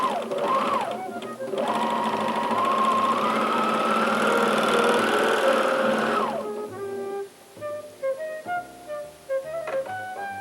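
A sewing machine runs steadily for about six seconds, stitching quilt squares together in a continuous loud whir, then stops, followed by softer clicks and handling sounds.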